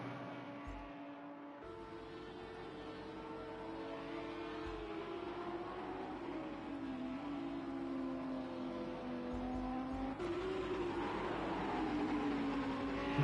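GRL race cars at Bathurst, their engines whining with rising and falling pitch as several cars approach and pass, sustained and moderately distant, without talk over it.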